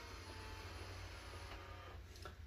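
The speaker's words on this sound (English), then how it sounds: "The robot vacuum will actually go out," A robot vacuum pulls out of its self-washing base with a faint, steady motorized whir and a couple of soft mechanical clicks toward the end.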